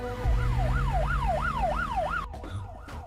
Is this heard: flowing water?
no